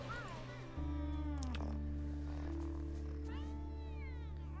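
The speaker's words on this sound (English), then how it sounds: "I didn't pet the cat." A cat meows with rising and falling cries, close and clear, over a steady low hum from a card game in progress.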